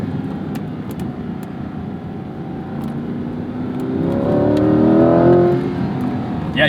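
A 2021 Corvette C8 Z51 with its naturally aspirated V8 accelerates from inside the car, a steady engine drone swelling into a louder, rising grumble before easing off near the end.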